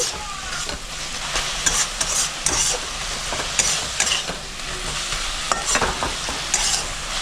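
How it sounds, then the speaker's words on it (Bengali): A spoon scrapes and stirs red spinach (lal shak) with poppy seeds (posto) in a hot pan, in steady irregular strokes over a continuous sizzle. Close and alone, with no talking. "পোস্তটা দিয়ে দিলাম, দিয়ে একটু মিক্স করে নিচ্ছি"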